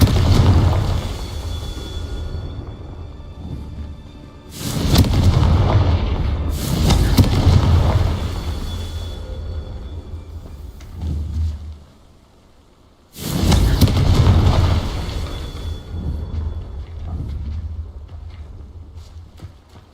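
Confringo spell blasts in the Hogwarts Legacy video game, two big booming explosions with rumbling tails and a smaller burst between, separated by quieter ambient stretches.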